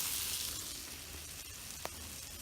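Sausages sizzling in a pan on a camp stove at an outdoor campsite: a steady soft frying hiss throughout with one faint tap near the end, and no talk.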